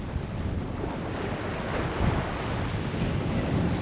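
Ocean waves and surf wash steadily around a sailboat out on the Atlantic, a continuous broad rush with gusty wind buffeting the microphone and a slightly fuller surge near the middle, with no talking.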